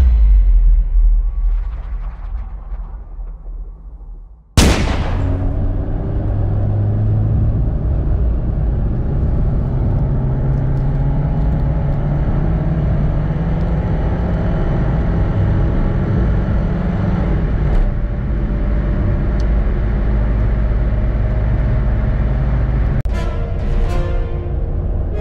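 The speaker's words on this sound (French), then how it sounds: "on va aller l'essayer de suite sur route pour se rendre compte de ses qualités" A 1991 Opel Corsa A 1.2 on the road makes a steady engine and road drone that starts abruptly and then holds level for most of the stretch. It is loud and close, with a few brief sharper sounds near the end.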